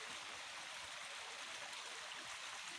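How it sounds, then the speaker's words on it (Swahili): Stream water flowing in Karura Forest, a constant broad rushing hiss heard steadily from a short distance, with no voices. "Tena kama hiyo maji yasikika."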